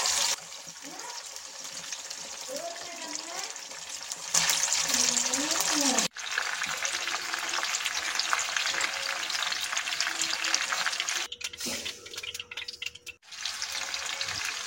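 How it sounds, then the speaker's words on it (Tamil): Green beans seasoned with salt and turmeric deep-fry in hot oil, giving a steady loud sizzle and bubbling throughout, with occasional stirring and clatter, brief running water, and a voice speaking over part of it. "அதுக்கப்புறம் வந்து உப்பு மஞ்சள் போட்டு பெரட்டி வச்சதுக்கு அப்புறம் வந்து அதை டீப் ஃப்ரை பண்ணி எடுக்கணும்"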